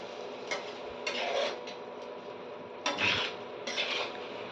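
Spoon scraping and clinking in a pan while stirring bottle gourd and prawn curry, several short separate rasping strokes at moderate distance with quiet pauses between.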